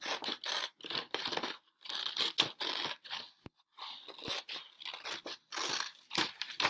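Scissors snip through paper while a reindeer head is cut out for a Rudolph craft, giving a string of short crisp cuts and crinkles in quick bursts with brief pauses, close and fairly quiet.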